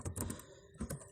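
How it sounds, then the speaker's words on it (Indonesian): Brisk keystrokes on a computer keyboard while entering a database setup in phpMyAdmin, a quick burst of close clicks, a brief pause, then another short cluster of taps. "Ketikkan aja langsung"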